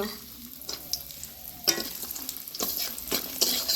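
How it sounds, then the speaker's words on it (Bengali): Lentil dumplings (bori) frying in leftover fish oil in a pan, a fairly quiet sizzle broken by several sharp stirring scrapes and spatters. "মাছের তেলে আমি বড়িগুলোকে লাল লাল করে ভেজে নেব"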